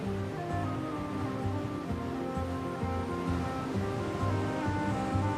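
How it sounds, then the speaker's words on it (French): Mediterranean sea waves washing against a rocky cliff coastline in Morocco, a steady loud wash of surf with continuous rolling water and no talking. "Cette Méditerranée dont les vagues dessinent et sculptent la côte."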